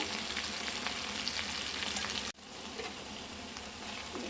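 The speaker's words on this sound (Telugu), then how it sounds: "ఉల్లిపాయలు దోరగా వేగిన తర్వాత మనం కట్ చేసి పెట్టుకున్న బెండకాయలు వేసుకోవాలి" Okra frying in oil with onions gives a steady, close crackling sizzle that drops briefly, as if the lid or pan is disturbed, then carries on slightly softer.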